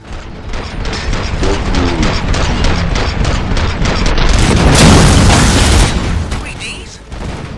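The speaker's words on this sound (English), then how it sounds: "Gunshots?" Gunfire in the video game RoboCop Rogue City, dense overlapping shots and booming impacts rolling on for several seconds, loud and close, with a voice speaking over the barrage.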